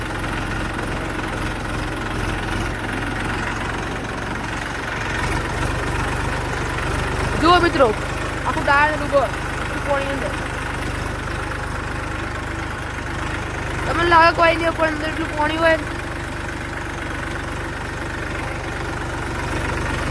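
A tractor engine idles and runs steadily through a waterlogged field lane, a continuous mid-low drone with a few brief higher bursts, while someone talks over it throughout.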